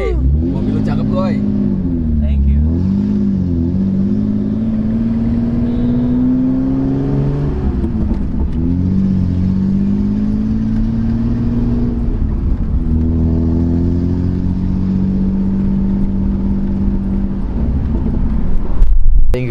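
A Toyota Cressida engine revs steadily, its hum rising and falling in pitch over several swells, heard close beneath people talking throughout.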